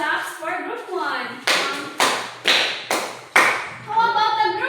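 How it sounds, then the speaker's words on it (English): A classroom of students gives five loud, evenly spaced claps together during a science lesson on rock formation, with chatter and voices around the bursts. "Give 5 claps for group 1."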